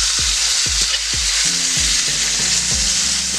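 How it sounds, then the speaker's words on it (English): Pork chops fry in a pan with a loud, continuous sizzle, while a run of low, regular thuds and knocks repeats beneath it, and nobody speaks. "we got our pork chops cooking away there"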